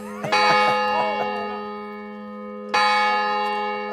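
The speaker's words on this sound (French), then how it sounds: "quelquefois, il y a 2 cloches. Vous entendez?" Large bells of the royal keep at Vincennes ring out with rich, sustained tones; a second strike lands near the end and rings on, loud and resonant.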